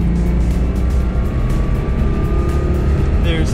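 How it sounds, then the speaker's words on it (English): A quirky French car with a notably soft ride accelerates toward a speed bump at 30 mph, with a loud, steady engine and road drone from inside the cabin, rising slightly in pitch as it speeds up. "So I'm going to take a speed bump now at 30 miles an hour."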